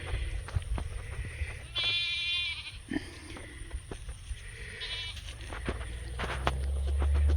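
A young goat bleats twice, high and wavering, close by amid rustling and faint outdoor background noise.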